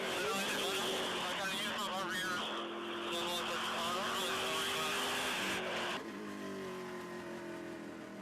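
A TA2 race car roars around the Mid-Ohio circuit near turn 9, its engine sustained and loud with gear-shift pitch changes, dropping slightly toward the end while commentators talk over it.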